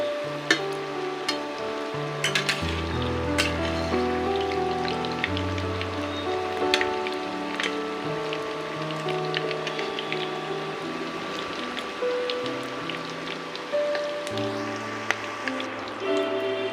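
Bay leaves and chilli sizzling in hot oil for Kashmiri dum aloo: a steady, dense crackling sizzle like patter, close and constant, with low background music beneath it and no talking.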